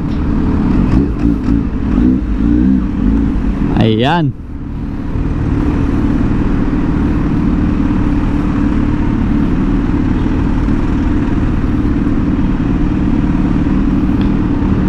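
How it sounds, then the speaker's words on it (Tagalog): A Kawasaki motorcycle ridden through congested traffic after an oil change, its engine droning steadily close by with a brief rev and passing vehicle noise, while someone says a word over it. "Andito ko ngayon sa Kawasaki at testingin lang natin"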